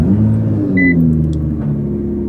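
Nissan GT-R idling right after start-up, a steady loud low exhaust rumble with a slight rise in pitch, close by and continuous, a brief faint electronic beep partway through.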